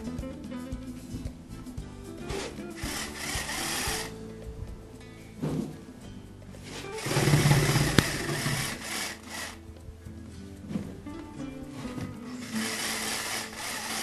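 A motorized Shake'n Fork rattles and vibrates to shake wood shavings off a manure fork, a steady buzzing clatter that rises into a louder burst midway and keeps rumbling to the end, with no talk.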